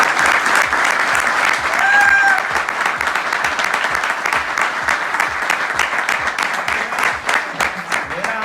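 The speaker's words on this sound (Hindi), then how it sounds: "इनके लिए मैं जोरदार क्लैपिंग चाहता हूँ" Loud, sustained applause from a seated audience at a business seminar, dense clapping filling the room without a break for several seconds.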